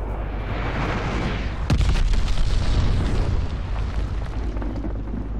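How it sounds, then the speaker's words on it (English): A glide bomb explodes in a combat video game: a loud, sustained rumbling blast with a sharp burst near the middle over continuous low battle noise, no voices. "Got an enemy glide bomb on the way."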